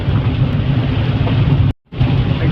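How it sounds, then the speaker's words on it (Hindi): Heavy, steady rain falls continuously during a multi-day downpour in Dalhousie, Himachal Pradesh, forming a dense, loud wash that cuts out abruptly for a moment before resuming. "बारिश हो रही है।"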